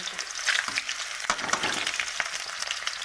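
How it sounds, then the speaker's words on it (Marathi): Chopped onion frying in hot oil in a home kitchen, a loud continuous sizzle and crackle close by with stirring scrapes. "तेल गरम झाले आणि कांदा टाकून घेतला बघा"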